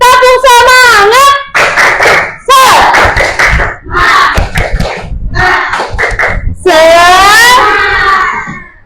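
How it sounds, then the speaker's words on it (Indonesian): A grade 4 primary school class chants loudly in rhythmic bursts, punctuated by sharp, patterned spirit claps between the shouted phrases. "Tepuk semangat."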